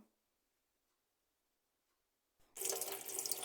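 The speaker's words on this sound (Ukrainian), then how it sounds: "Збираємо у вузлик, ідемо до крану промивати." Near silence breaks abruptly as a kitchen tap opens and a loud, steady stream of water pours over a cloth bundle of seeds being rinsed.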